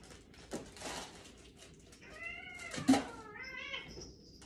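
Cats meow indoors, several drawn-out, rising and falling calls in quick succession, fairly close but moderately quiet over faint background noise.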